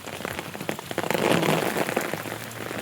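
Heavy rain pours steadily onto surfaces outdoors on a flooded road, a dense and loud continuous hiss of drops that swells slightly midway, with no voices.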